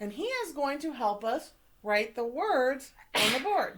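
A child sneezes once in a classroom-style lesson, a sharp close burst near the end that follows an adult speaking.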